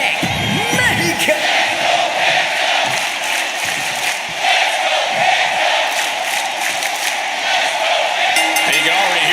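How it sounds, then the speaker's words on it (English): Arena crowd at a ladder match in the wrestling game WWE 2K25 roars and cheers steadily, loud and sustained with scattered whoops and shouts rising out of the dense wash of noise. "you can already hear the roar of the crowd as this ladder match gets underway"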